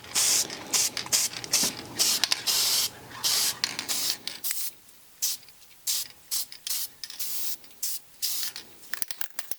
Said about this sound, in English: It's like copper spray paint.